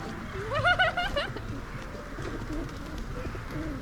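Well-fed pigeons coo near a mineral-water pump room in a town square in Truskavets, a few warbling calls up close over a murmur of outdoor background noise.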